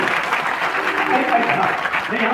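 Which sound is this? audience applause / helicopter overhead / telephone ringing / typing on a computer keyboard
audience applause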